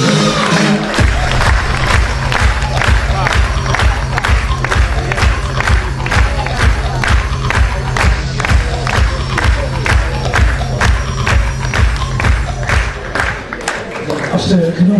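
A crowd at a sports-award ceremony for sportswoman of the year applauds and cheers for a nominee, dense rhythmic clapping mixed with whoops, loud and sustained over a thumping music beat.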